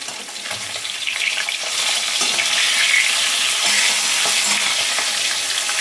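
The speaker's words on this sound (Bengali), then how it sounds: "এখানে মাছটা ভাজা হচ্ছে" Fish frying in a pan makes a dense, continuous sizzle that swells slightly in the first two seconds and then holds steady, close and fairly loud, with no talking.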